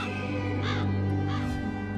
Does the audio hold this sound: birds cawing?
yes